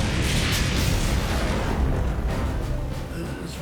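Rocket barrage from a Soviet Katyusha "Stalin organ" launcher during the WWII battle of Kursk, a dense continuous rumble of booming explosions that stays loud and unbroken throughout, easing slightly near the end.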